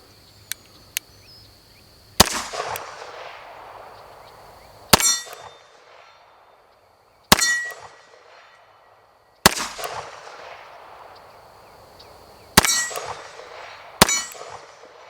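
Taurus PT 92 AFS pistol fired at steel targets from about 15 yards, each of six sharp reports followed by a ringing metallic clang, spaced irregularly with a couple of faint clicks before the first shot.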